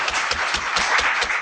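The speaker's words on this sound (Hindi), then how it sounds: "थोड़ा तालियां बजाइए" An audience at a rural rehabilitation awards ceremony for disabled people breaks into applause, a brisk, full round of many hands clapping close by, steady and lively throughout.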